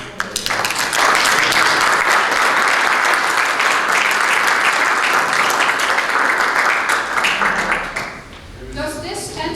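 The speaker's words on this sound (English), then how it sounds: "Maybe we can applaud Martin." An audience at a membership weekend storytelling session bursts into loud, sustained applause for Martin, dense clapping from a full room that fades near the end as a voice starts to speak.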